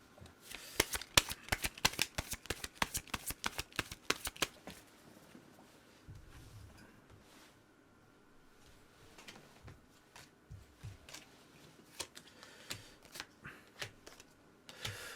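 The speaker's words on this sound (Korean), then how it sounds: "그리고 이 좋은 카드를 또 뽑아보도록 하겠습니다." Tarot cards are shuffled in quick, rapid riffling bursts, then set down and drawn with scattered soft taps and slides, quiet and close, with no voice.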